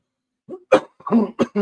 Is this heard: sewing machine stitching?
no